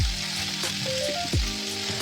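Cauliflower with potato and tomato sizzles steadily in hot oil with turmeric, salt and cumin powder, with a couple of scraping stirs cutting through the continuous close frying hiss; no voices.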